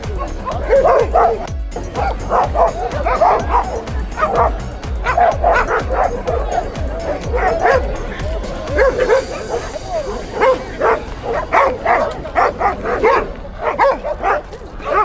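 Several East Siberian Laika hunting dogs bark and yip continuously at a hunting dog show, a dense overlapping chorus of nearby barks with some whimpering, while a person's voice is faintly heard among them.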